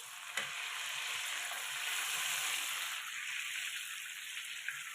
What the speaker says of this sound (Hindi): ये देखिए जी, ये गर्म हो रहा है बटर भी और ऑयल भी